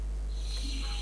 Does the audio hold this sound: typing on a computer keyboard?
no